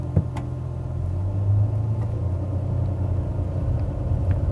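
A 2008 Ferrari 599 GTB Fiorano engine rumbles low, then swells into a deeper, louder rev before settling into a steady throaty idle, heard from inside the car.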